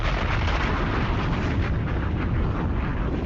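Sustained broadband roar of an explosion sound effect, loud and dense with heavy low rumble, holding steady for several seconds without a clear decay.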